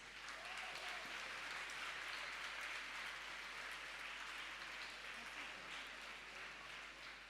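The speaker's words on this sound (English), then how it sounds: "Let them remember them and give them a good applause." Sustained applause from an audience at a platinum jubilee celebration of the Rosary institution during its inaugural function and felicitation. Steady, even clapping lasts throughout, somewhat distant and soft.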